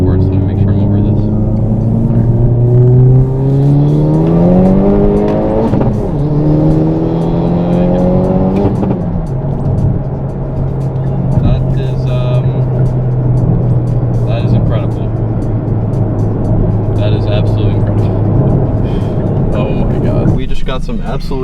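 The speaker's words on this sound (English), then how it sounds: "I see another opportunity for an insane second gear pull" A stuffed-turbo Hyundai Veloster N accelerates hard in second gear, its engine note climbing steeply and loudly up through the revs, easing off, then pulling again, with brief bursts of talk over the engine.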